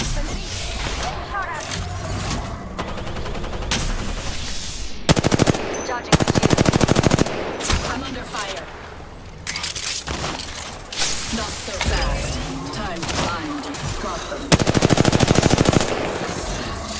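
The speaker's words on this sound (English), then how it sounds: "Shields are depleted. I'm under fire." Apex Legends firefight with sustained machine-gun bursts and rapid automatic fire repeating loudly across the whole span, punctuated by brief pauses, with voice lines occasionally heard beneath the shooting.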